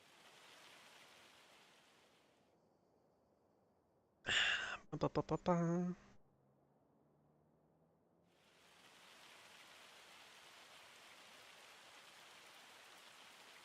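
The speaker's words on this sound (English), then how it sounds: "if it wasn't pissing it down with rain or hail. That's hail." Rain hisses as a steady wash of noise in a Farm Sim video game, fading out and then returning, with a brief burst of a voice in the gap and no distinct hail impacts.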